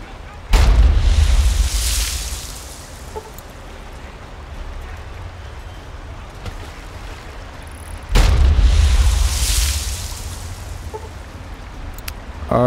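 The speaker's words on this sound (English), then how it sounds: "I'm going to frag grenade them, see if that does anything" Frag grenade explosions in Fallout 3, two loud booming blasts about eight seconds apart, each with a rumbling low-end decay over quieter background ambience.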